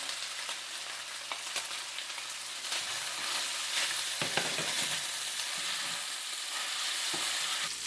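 Chopped onion frying in a pan for an eggplant curry meat sauce, a steady broadband sizzle with occasional stirring scrapes, close and continuous throughout, with no talking.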